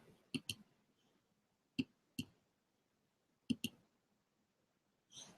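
Sharp computer mouse clicks come in three close pairs spread over a few seconds, crisp and near in a quiet room, with a short brighter rustle at the very end.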